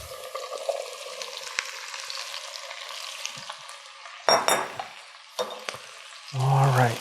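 Chopped asparagus sizzles steadily in a hot pan for a spring asparagus soup, with sharper bursts as a spoon stirs it and a louder, fuller hiss swelling near the end.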